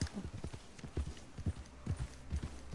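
Steady clip-clop of horse hooves trotting at an even rhythm in the video game Red Dead Redemption 2, fairly close, with a low rumbling background.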